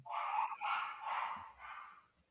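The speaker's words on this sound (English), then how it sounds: "that's my dog going nuts because they got home" Dogs barking excitedly at home as someone arrives, several loud yapping barks in quick succession, fairly close and alone.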